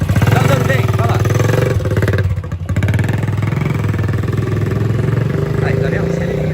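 A motorcycle with a starting problem runs loudly and close by with a steady rattling engine note and a brief dip partway through, while people talk over it.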